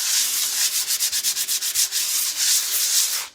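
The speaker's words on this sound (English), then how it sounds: "I'm just gonna use a very, very light, like 180 grit sandpaper. Just kind of like sand it very," Light hand sanding of a piece of furniture with fine 180 grit sandpaper, a close, steady series of rhythmic back-and-forth rasping strokes with no talking.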